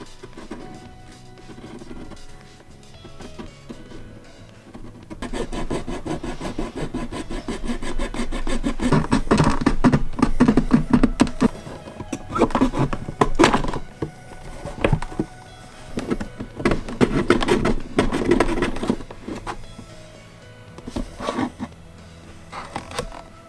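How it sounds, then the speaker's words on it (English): A very fine saw blade fitted to a hobby knife handle cuts through a Phase 1 clone trooper helmet, making a steady, close rasping that grows busier and louder midway, with no talking. "I'm just going to be using this very fine saw blade on a hobby knife handle"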